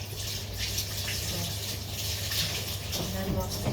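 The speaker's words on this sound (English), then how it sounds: "Cleaning around the sink, all around here, in the sink, and then just rinsing it again." Tap water runs steadily into a small kitchen sink during cleaning, a soft continuous rushing splash heard close up, with faint handling sounds near the end.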